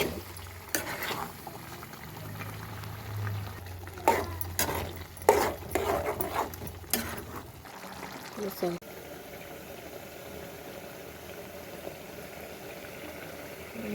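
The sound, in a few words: stirring tomato paste into onion masala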